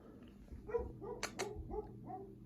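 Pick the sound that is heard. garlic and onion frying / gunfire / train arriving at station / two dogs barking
two dogs barking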